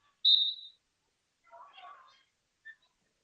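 A referee's whistle blows once, sharp and short, during a college wrestling match between Mount Union and Huntingdon, followed by a brief burst of crowd noise and a faint second chirp.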